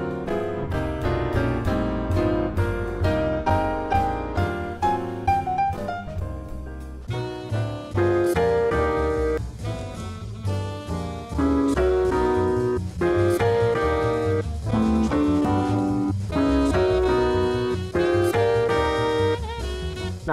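Anime opening songs built on a repeating 2-5-1 chord progression, a dense, loud full-band mix with bright melodic lines and steady driving rhythm that shifts to a busier, punchier section partway through, with no speaking.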